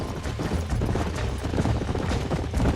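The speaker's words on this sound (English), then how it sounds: "There's the horses!" Horses galloping in the Red Dead Redemption video game, a dense, continuous drumming of hoofbeats that is close and fairly loud, with no voices over it.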